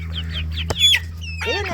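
A rooster on a farm clucks close by in a few short, rising calls, followed by a louder squawk and some rustling.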